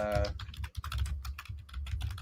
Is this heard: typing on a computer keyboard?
yes